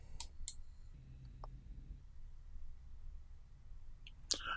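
A few quiet, sharp computer mouse clicks tick out at intervals over a low background hum while a preview is opened in Pubcoder, with no voices.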